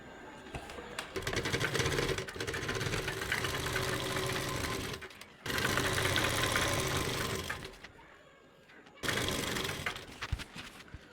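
Sewing machine stitching salwar legs in close, steady bursts, running in three long runs separated by short pauses, with a faint voice in the gaps.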